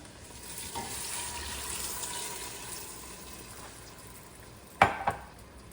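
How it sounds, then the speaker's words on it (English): Water from a measuring cup poured into a pot of vegetable soup on the stove, a steady faint splashing and trickling over low kitchen background, ending in two sharp louder splashes near the end. "Now we're going to add the 2 cups of water."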